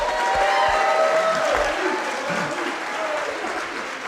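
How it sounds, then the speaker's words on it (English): An audience at a White Wolf marketing presentation gives loud, sustained applause, a dense clatter of many hands that slowly eases off, with a voice faintly underneath. "We'll clap for her more in a minute."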